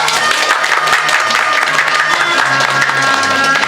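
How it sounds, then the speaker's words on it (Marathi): Audience applause at a Marathi stage play, a dense, continuous wash of clapping from a crowd, loud and sustained for the whole stretch. "टाळ्या!"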